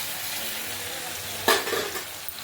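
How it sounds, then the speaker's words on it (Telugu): Onions and tomatoes fry together in a pan for an Andhra-style raw banana and egg curry, with a soft steady sizzle that swells briefly as the mix is stirred, close and moderately loud. "టమాటాస్ కూడా సిమ్లో పెట్టుకొని బాగా మగ్గించుకోవాలి."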